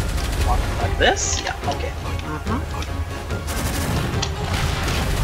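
Gunfire and explosions in the shooter game Gunfire Reborn, rapid shots and bursts packed densely throughout, while people talk over the action.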